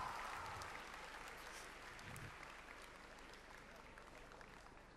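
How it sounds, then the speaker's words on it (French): An audience at a Japan Expo cosplay show claps for the group Altaïr in broad, steady applause that slowly fades over a few seconds, with a little crowd murmur beneath. "Merci beaucoup au groupe Altaïr, applaudissez-les bien fort."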